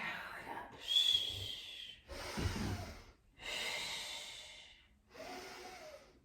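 Slow, deep breaths during a Pilates exercise, with four long breathy exhales and inhales in sequence and a short silence between each, close and fairly quiet.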